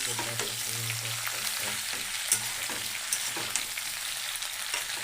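Shukto, a Bengali vegetable curry with shukto spice mix and potato and pointed gourd, sizzles and bubbles steadily in a pan, a continuous close hiss with light stirring scrapes and small pops throughout.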